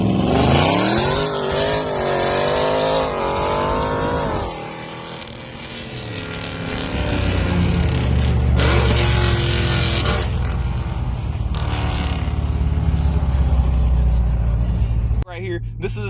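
Dodge Scat Pack exhaust revving loudly up close, a throaty climbing roar that drops back to a deep burbling idle, with someone speaking over parts of it.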